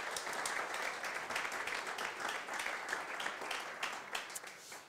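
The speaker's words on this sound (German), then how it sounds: "Von daher möchte ich euch bitten, auch mal einen großen Applaus für das Corporate Sounding Board zu geben." Sustained applause from a large audience at a startup accelerator demo day, dense steady clapping filling the whole stretch without talk, fairly distant and even in loudness.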